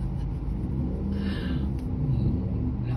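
A car engine in traffic on the way to Saigon Airport gives a steady, heavy rumble with a mild rise in throttle, loud and close and continuous, with no talk.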